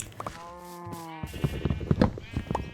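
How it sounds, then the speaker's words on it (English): Sheep in Minecraft Bedrock let out a clear wavering bleat in the game, followed by a busy patter of in-game footsteps and small thuds, all fairly soft. "We sheared our sheep for wool because they looked a bit messy"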